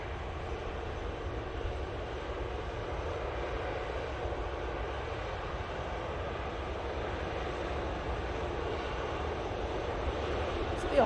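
An easyJet Airbus A320 airliner at Manchester Airport gives a steady, moderately distant engine roar that holds level throughout, with faint talk beneath it.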